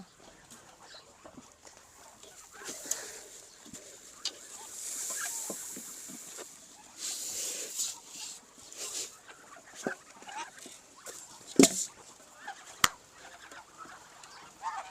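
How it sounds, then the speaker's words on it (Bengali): Farm ducks at feeding time, a China duck flock, give scattered quacks and calls over a few seconds, with occasional splashes and bumps near the microphone. "খাওয়ার দেওয়ার সময় হাঁস তো কথা মানতে চায় না"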